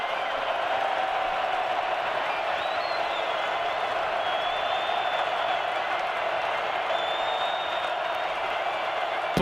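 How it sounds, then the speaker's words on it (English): A football stadium crowd at a UT Martin versus Montana State Bobcats game roars as one steady, dense wall of cheering for the whole stretch, with a faint whistle-like tone drifting above it. "Listen to this crowd."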